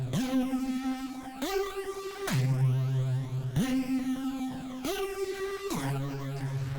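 A synthesized pluck lead tone, made in FL Studio, plays a repeating two-note pattern, each note sustained with a bright buzzy attack, steady and alone.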